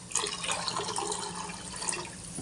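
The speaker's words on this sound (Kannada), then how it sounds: "ಈಗ ಇದಕ್ಕೆ 1-2 ಕಪ್ ನೀರು ಹಾಕ್ಕೋಬೇಕು" Water is poured into a pan of rasam as it cooks, a soft continuous splashing trickle heard faintly and close for a couple of seconds.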